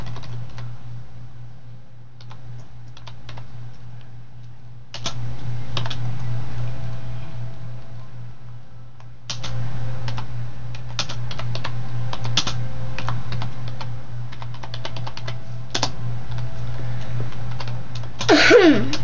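Computer keys clack in scattered bursts while someone types in Minecraft chat, loud clicks over a low steady hum, with a brief cough-like noise near the end.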